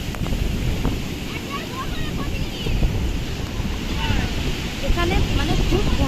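Big, frequent ocean waves surge and break on Puri beach in a broad roar buffeted by wind noise on the microphone, with faint voices of bathers in the background.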